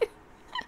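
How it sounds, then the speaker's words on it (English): A house cat gives a short, faint meow close to the end, set against quiet room tone, with a small soft knock at the very beginning. "Sorry, I just heard like the cat."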